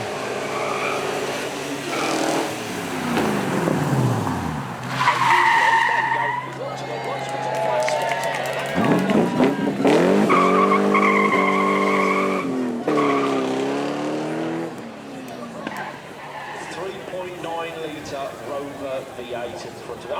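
A Rover V8 sports car engine of about 260 horsepower roars and revs with tires squealing through skids, pitch sweeping up and down, mixed with excited talking throughout.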